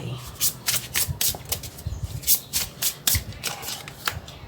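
Tarot cards shuffled by hand, a close, steady run of quick riffling and flicking bursts filling the whole stretch with no talk.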